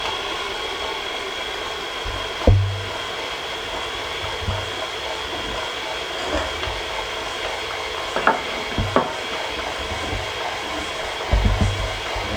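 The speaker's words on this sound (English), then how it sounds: "Now you can hear my mixer really struggling" A steady mechanical whir of a 4.5 to 5 quart stand mixer motor kneading bread dough runs continuously with occasional low thumps and knocks, sounding strained under load.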